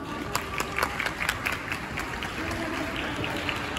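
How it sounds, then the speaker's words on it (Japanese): Steady audience applause with scattered crisp claps and a soft crowd murmur greets a child performer at a charity kids' stage event inside an Aeon shopping mall. "皆さん、一人ずつ拍手で迎えていただきましょう。"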